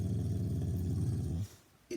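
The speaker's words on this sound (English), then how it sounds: "Oh, baby, that's a little puppy." A tiny puppy gives a low, rumbling growl that holds steadily for over a second, then breaks off into near silence before a brief final grunt, close to the microphone.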